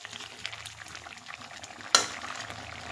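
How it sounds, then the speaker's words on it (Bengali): Taro and pumpkin curry simmers softly in a pot with a low bubbling sizzle, then a single sharp scrape or knock of a stirring spoon against the pot near the end. "তো এভাবে ফুটতে থাকবে এবং নাড়তে থাকবে"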